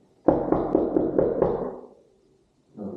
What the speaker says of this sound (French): Qui vient toquer à la porte maintenant?